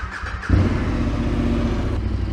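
A 2021-or-later KTM Super Adventure S motorcycle, fitted with a DNA air box, fires up after a short crank and settles into a loud, steady, throbbing idle close by.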